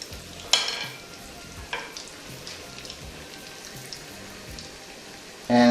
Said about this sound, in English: So now we turn the meatballs.